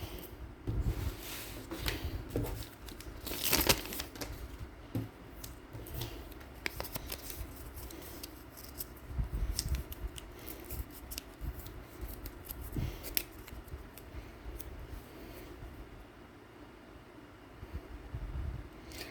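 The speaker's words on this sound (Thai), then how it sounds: "ขออนุญาตเอากระดาษก่อน" Paper is handled in quiet crinkles and rustles that come in short, uneven bursts. The sound is close and faint, with no talking.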